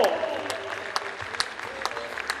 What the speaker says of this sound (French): Sous vos applaudissements, plus de bruit.